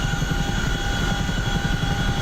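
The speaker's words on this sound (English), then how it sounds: "Chinook will be departing the FARP, basically on the southern heading 178, headed to first waypoint to drop troops and checkpoints." A Chinook helicopter in the DCS World flight simulator chops with a steady rotor thump and constant engine whine, loud and continuous throughout the short stretch with no speech.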